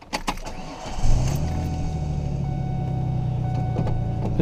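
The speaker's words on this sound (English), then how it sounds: "So I'm going to start it up." A 2005 Ford Ranger pickup starts up close by: a few light clicks, then the engine catches after about a second and settles into a steady, low idle rumble.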